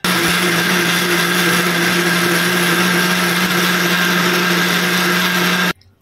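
A kitchen blender grinds soaked cooked rice with sugar, yeast and water into a fine batter, giving a loud, steady motor whir with a constant pitch that runs for several seconds before stopping suddenly.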